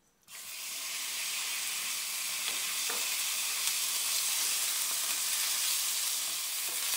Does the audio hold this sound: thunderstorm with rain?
no